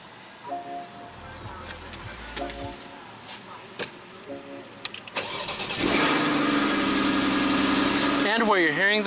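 A 2015 Porsche Cayman with a 2.7 L flat-six engine: the starter cranks and the engine catches with a loud flare of revs near the end, then settles into a steady rumble after quieter sounds and some talk earlier.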